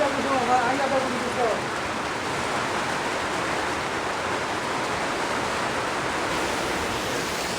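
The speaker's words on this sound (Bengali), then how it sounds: "প্রথমে পেঁয়াজ তেল দিয়ে গরম করতেছি" Onions heating in oil in a pan for a chicken chaap recipe give a steady, close hiss of sizzling, with faint voice-like sounds near the start and no clear speech afterward.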